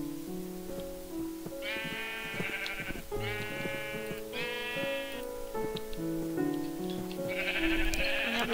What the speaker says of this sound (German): Ein blaues Schaf.